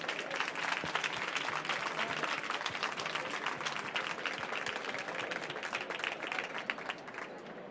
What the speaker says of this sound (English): One big applause for the winners.